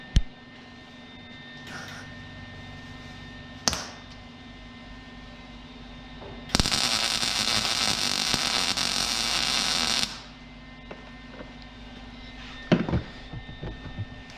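An electric welder lays a bead on metal bodywork of a Datsun 240Z, a harsh buzzing hiss lasting about three and a half seconds amid shop hum, with scattered knocks and handling noises before and after.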